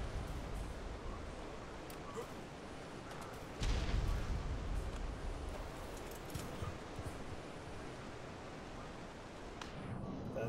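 Rocket launcher explosions in ARK on the Ragnarok map roll through a dense, noisy battle din, with one heavier blast booming up a few seconds in and steady rumble continuing afterward.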